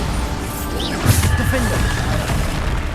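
Bombarda blast spell going off in the Hogwarts Legacy video game, a single booming burst that stands out over busy combat noise and chanted spell names.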